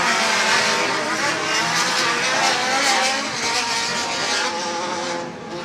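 Super buggy race cars circle a dirt track at a Sportsman race day in Buchanan, Michigan, a dense continuous engine roar with overlapping revving and tire noise, loud and steady throughout, fading slightly at the end.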